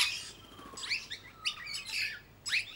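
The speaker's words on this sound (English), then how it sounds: "They also make a chee chee chee sound," At a bird sanctuary, a bird gives a nasal chee chee chee call: several short, bright chirps in quick irregular bursts, fairly close, over a quiet background.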